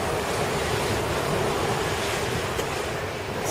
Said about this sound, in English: The storm's still coming out of the north